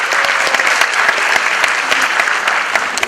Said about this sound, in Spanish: Fuerte el aplauso para Alfonso Malquijar, por favor